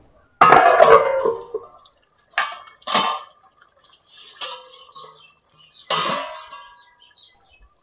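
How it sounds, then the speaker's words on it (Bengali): Pot lid and utensil clatter around a pan of rohu fish curry as the lid is set on: several separate metallic knocks and scrapes, close, with quiet pauses between. "এবারে ঢাকনা দিয়ে দেবো"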